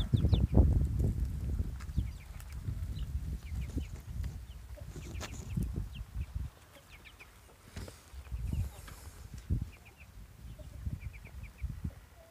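Chickens of a crossbred Jeki line cluck repeatedly in a coop, a busy stream of low clucks and occasional higher calls, fairly close and steady throughout.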